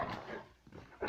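A dog gives short yips and whimpering barks in quick bursts at the start and end, close by, with a quieter gap in between.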